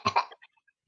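A voice imitating a dry, hacking cough: two quick, close coughs followed by a shorter fading one, then quiet.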